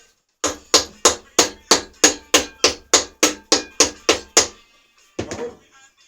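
A nylon mallet taps a Vespa SS180 scooter part in a quick regular series of about fourteen sharp, close knocks, then a short pause and a final rougher double knock.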